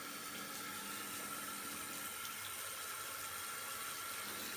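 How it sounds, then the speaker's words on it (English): Water from a bathtub tap runs steadily with the drain closed, a continuous broadband splashing rush that holds even and fairly loud throughout, with no voices. "We'll close the drain and turn on the water."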